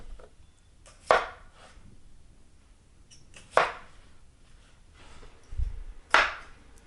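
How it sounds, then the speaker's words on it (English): A knife cuts potatoes into halves and quarters, landing as three sharp, separate chops on a cutting board a couple of seconds apart, close and clear over a quiet room with a faint low thump between them. "little ones I'm just going to cut in half. The bigger ones I'll probably cut in quarters so they cook consistently."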